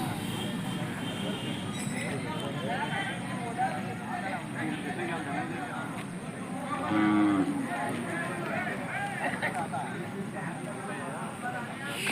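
Hallikar cattle at the weekly Sunday cattle market in Joduggatte, Turuvekere taluk, Tumkur district. A cow lows midway through a busy hubbub of crowd chatter, while someone talks throughout.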